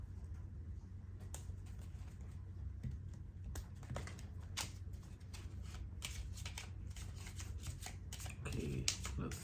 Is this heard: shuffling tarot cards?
yes